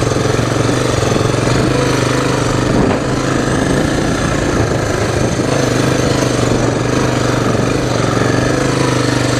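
Engine of a 1986 Honda Big Red three-wheeler ATV, a rough rat-rod build with a misbehaving CDI, runs steadily and loudly throughout with a dense, chattering mechanical drone and no speech.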